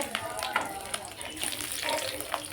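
Green chillies hiss and crackle as they hit a mustard-paste curry frying in a pan, giving a steady, close sizzle with a few louder spits and stirring scrapes.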